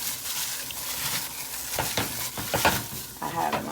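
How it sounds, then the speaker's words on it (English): Chicken wings sizzling in hot oil in a cast iron skillet, a steady frying hiss running throughout with a few sharper crackles and spatters toward the end, fairly close. "I have my cast iron skillet going. I put some oil in it, and we're going to drop these wings in here."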